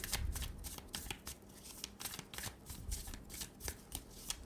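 Tarot cards being shuffled by hand, a close, quick series of soft riffling flicks and slaps that run continuously for several seconds.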